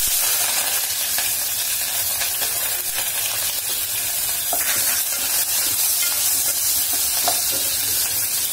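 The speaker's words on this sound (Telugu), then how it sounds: "ఈ ఉల్లిపాయ పచ్చిమిర్చి ముక్కల్ని మనం కొద్దిగా గోల్డ్ కలర్ వచ్చే వరకు కూడా ఫ్రై చేసుకోవాలి" Onion and green chili pieces frying in hot oil for crab curry, a loud, dense, steady sizzle and hiss heard up close throughout, with faint stirring underneath.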